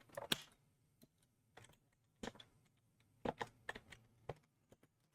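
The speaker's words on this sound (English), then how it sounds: "I think my keyboard officially hates me." Computer keyboard typing while coding a test fixture: scattered clusters of close, crisp key clicks in short irregular bursts, with quiet pauses between them and no talk.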